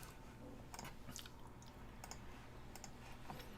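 Faint keyboard typing in the background of a room, with scattered soft clicks and taps coming in irregular short bursts over a steady low hum.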